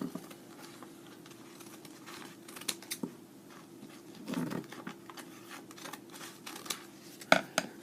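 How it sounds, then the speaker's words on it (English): Scissors snip a paper coffee filter into strips, giving scattered soft crisp cuts and rustles at close range, with a few sharper snips near the end over a low background hum. "You can cut these into strips like this."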